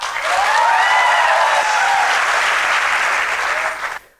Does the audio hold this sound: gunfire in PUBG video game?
no